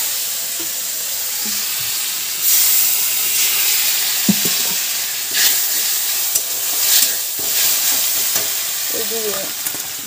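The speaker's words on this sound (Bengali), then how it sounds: "মাছের জন্য আমি মশলাটা কষাচ্ছি" Spice paste for a fish curry sizzles and fries in a pan, a bright continuous hiss with occasional stirring scrapes and bursts of louder crackle, close and steady with no talking.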